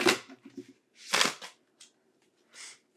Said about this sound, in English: we're going to shuffle the crystal cards